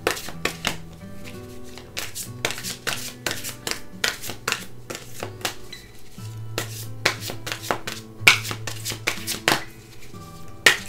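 Oracle cards are shuffled by hand in long runs of rapid riffling and rubbing strokes broken by short pauses, close and steady, with no voices.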